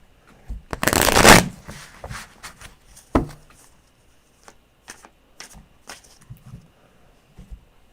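A deck of tarot cards riffle-shuffled in one loud, dense burst, followed by a sharp snap and several softer taps and shuffles, close by with no talking.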